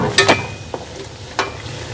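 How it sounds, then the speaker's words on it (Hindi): Peas simmering covered in a pan over medium heat with tomatoes, a few soft bursts of bubbling and clinking, close by and alone. "तो मैं इसको थोड़ा सा ढाँप कर 5 मिनट तक मटर पकाऊंगी"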